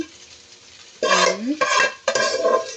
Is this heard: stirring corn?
yes